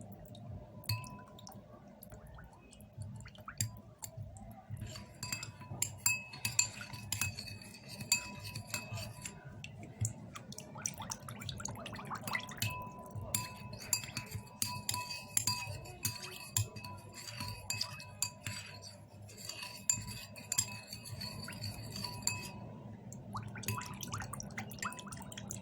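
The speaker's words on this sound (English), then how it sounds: "You make sure you stir it very well." A spoon stirs thick honey in a glass bowl for a homemade hair conditioner, with steady light clinks and taps against the glass going on close and continuously, no talking.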